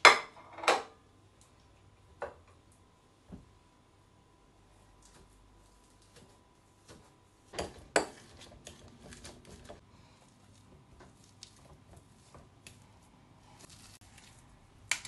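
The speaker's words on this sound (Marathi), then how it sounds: "हिंगा आतां बटाट मॅश करून जाल न्हू" Potatoes are mashed with a rice masher in a home kitchen, heard as sparse, scattered metallic clinks and soft squishy presses separated by quiet gaps, fairly close, with no talking.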